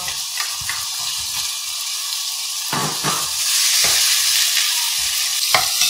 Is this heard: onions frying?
yes